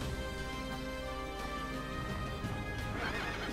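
Horse enemy in the video game Child of Light letting out a clear, loud whinnying neigh over game music, with clip-clop hoof sounds and no talk.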